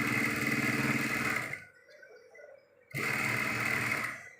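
Sewing machine stitching a strip onto a trouser, a steady fast mechanical whirr that stops for over a second, then resumes at the same pace before tapering off.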